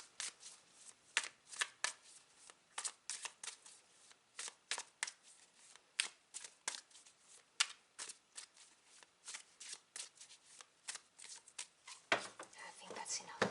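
A tarot card deck being shuffled near and clearly, with repeated crisp riffles and flicks in an irregular rhythm over several seconds, ending in a denser flurry of cards.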